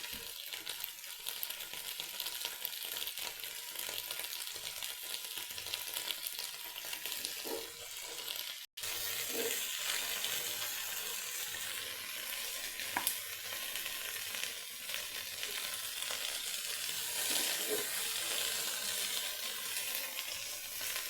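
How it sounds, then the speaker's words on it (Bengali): Vegetables sizzling in a frying pan on a cold, foggy day, a steady close frying hiss with occasional stirring scrapes and a brief drop partway through. "এখানে ফ্রাই প্যানটা বসিয়ে দিয়েছি। এখন সবজিগুলো ভেজে নেব।"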